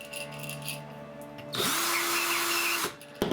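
A powered case-prep tool chamfers the mouths of 308 Winchester brass cases, a close, steady motorized whir that spins up, runs for about a second and a half, then winds down among quiet handling sounds.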